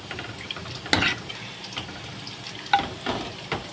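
Water is poured into a pot of lentils for dal while it is stirred in a home kitchen, giving quiet, brief splashes and scrapes separated by short pauses, with no talking.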